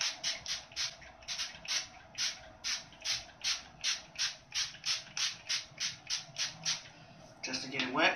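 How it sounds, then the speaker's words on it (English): Rapid bursts of curl-reviving spray hiss from a pump bottle onto hair, about twenty short sprays in a steady rhythm, close and fairly loud. "Just spray a little bit of that in."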